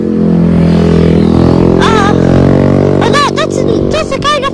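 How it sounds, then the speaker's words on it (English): A noisy motorcycle engine drones steadily nearby, loud and continuous, while people talk over it. "That's a kind of noisy motorcycle."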